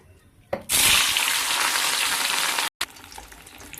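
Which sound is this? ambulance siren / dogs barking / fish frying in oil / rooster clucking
fish frying in oil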